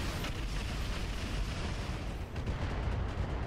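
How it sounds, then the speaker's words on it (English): Artemis-guided missiles launch in the mech game Roguetech, a dense continuous rumble of blasts and whooshing bursts that stays loud throughout. "Artemis ammo firing."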